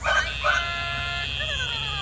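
A dog wearing a DogTra electric training collar during obedience training gives two short, high whimpering yips near the start, then a steady hum and faint tones continue underneath.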